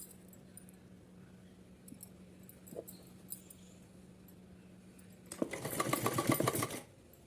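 Sewing machine stitching cotton fabric from the wrong side, mostly quiet handling with faint clicks before a short loud burst of whirring stitching near the end, close by.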